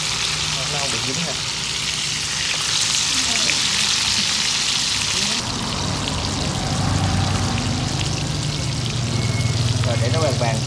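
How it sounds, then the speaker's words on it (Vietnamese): Salted ribbonfish frying in plenty of hot oil, a steady close crackling sizzle that fills the whole clip with no talk over it. "Chiên dầu nhiều nhiều cho nó dễ chiên các bạn, nó không bị dính ha."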